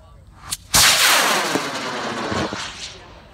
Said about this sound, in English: we are launching in 5, 4, 3, 2,